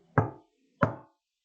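Two crisp knocks, evenly spaced about two-thirds of a second apart, tap out a steady two-beat count. Both are close and clear with silence between and after them, and no voices.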